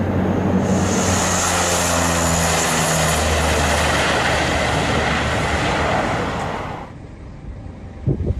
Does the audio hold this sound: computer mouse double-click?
no